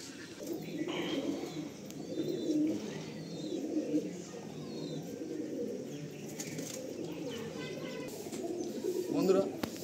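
Pigeons coo and flap their wings at a rooftop loft on an overcast, rainy day, with soft repeated calls and wingbeats close by under steady background noise and someone speaking.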